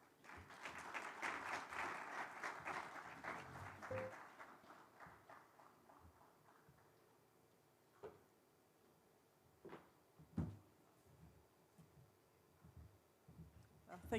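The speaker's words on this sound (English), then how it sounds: "Round of applause for her, please." An audience at a business forum gives a round of applause that fades after about four seconds, leaving a quiet room with scattered knocks, shuffles and small bumps.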